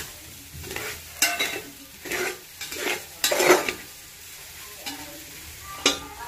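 Masala and coriander powder stirred in a pan for a soya biryani, a spoon scraping and clattering in repeated bursts over a light sizzle, close and fairly loud with quiet gaps between strokes.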